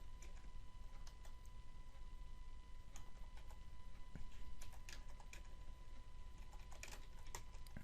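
Keys tapped on a computer keyboard while entering a command in a Minecraft server plugin, a steady run of light clicks over a constant low hum of room or computer noise, fairly close and quiet, with no one talking.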